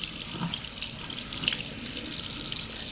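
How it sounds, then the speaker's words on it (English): Tap water runs steadily over a makeup brush at a sink during cleaning, a continuous close hiss and splash with no voices. "And I have running water. And you want to run the water over here"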